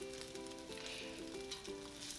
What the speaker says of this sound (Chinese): 把这个牛肉放进来，先让它煎一下